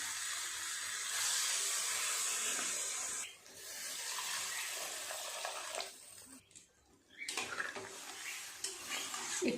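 Vegetables with masala for a paneer curry are stirred in a pan, with soft scraping and clinking of utensils over a light sizzle, quiet and close, fading out briefly near the end.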